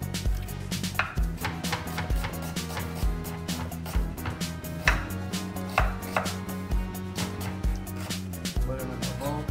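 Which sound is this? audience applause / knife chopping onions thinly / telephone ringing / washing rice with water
knife chopping onions thinly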